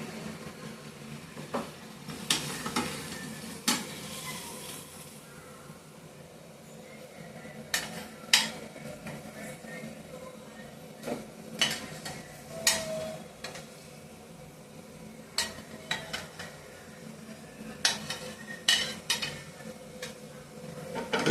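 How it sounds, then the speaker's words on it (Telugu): Prawns sizzle in an onion-tomato masala with green chilli, ginger-garlic paste, cinnamon and cloves. A spoon scrapes and clinks against the pan in uneven bursts, fairly close, over a soft continuous frying hiss. "ఇప్పుడు రొయ్యలు ఎత్తి దాంట్లో వేసేసుకుంటామండి"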